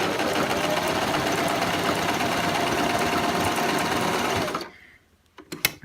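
A sewing machine running steadily as it stitches an extra-wide zigzag with a zigzag foot, a loud continuous mechanical whir with needle clatter that stops abruptly near the end, followed by a few small clicks.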